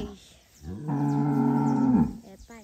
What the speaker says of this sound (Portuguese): O boi só fica atrás da mãe.